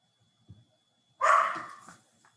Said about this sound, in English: So let's see if my dog stops barking.